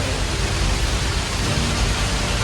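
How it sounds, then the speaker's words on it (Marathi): Steady, dense monsoon rain roars continuously near Mangaon, Maharashtra, a broad hissing wash with no breaks or voices. "मध्ये भरपूर प्रमाणामध्ये पाऊस आहे"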